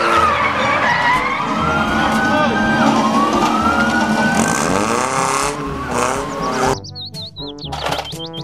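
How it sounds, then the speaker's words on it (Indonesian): A toy siren sweeps up and down, loud and close, mixed with whooshing engine-like effects and a voice, ending in quick chirping tones. "Mobil polisi."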